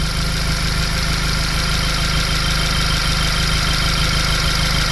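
Volkswagen Golf 2L GTI engine idling after a start, a steady, even running drone with no stumble, close and alone without talk; the car has a lean-running fault code.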